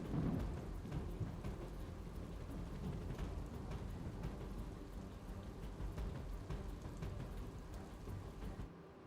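Heavy downpour in Saurashtra, Gujarat, a dense, steady roar of rain pounding surfaces with occasional rumbling of thunder, continuous and fairly loud throughout until it cuts off at the end.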